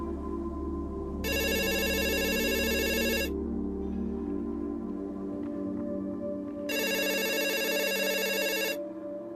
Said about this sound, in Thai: และเสียงโทรศัพท์ก็ดังขึ้น